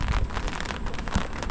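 Scattered raindrops land outside a tent patio at a sweltering summer campsite, a soft, steady patter with a few closer, louder taps.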